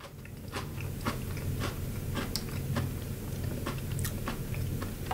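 Crisp, sharp crunches as someone bites and chews frosted cookie sticks, several distinct bites at irregular intervals, close and clear with no talking.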